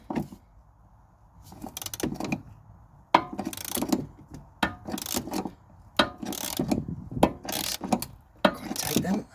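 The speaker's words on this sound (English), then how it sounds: "Okay, so we've got a 18mm socket" A ratchet with an 18mm socket loosens a tight rear suspension bolt on a Ford Mondeo Mk5, producing repeated bursts of clicking at close range, separated by short pauses.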